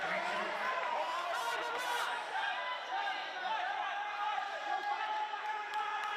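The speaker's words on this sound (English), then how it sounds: "Just hear the crowd now getting involved" Crowd at an international wheelchair rugby match between Australia and England, a broad murmur of chatter and rising cheers filling the arena under continuous commentary.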